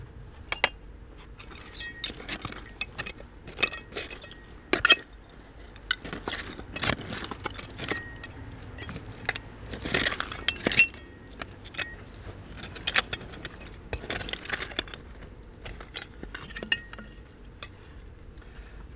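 A heavy old glass prescription bottle, a near Philadelphia oval from around 1905, is handled with repeated clinks, knocks and scrapes over a low outdoor background, with no talk.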